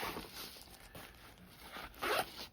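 A zipper on a small backpack pocket is pulled in several quick strokes, close and crisp, with a louder final zip near the end.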